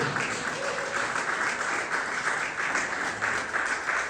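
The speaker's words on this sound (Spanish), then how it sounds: "den un fuerte aplauso al Señor" A church congregation claps loudly during a Spanish-language Sunday service, a sustained, even wash of hand clapping from a full room with no voices over it.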